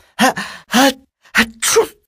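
Loud, close sneezes, a pair of sharp breathy bursts, then after a short pause another pair, with no talking.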